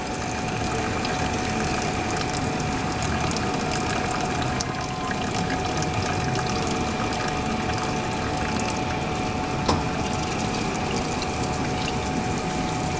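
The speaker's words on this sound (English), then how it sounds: "Then we just run hot water through it." Hot water rushing steadily through a beer keg line during cleaning, a continuous loud pumping, pouring flow that holds unchanged throughout.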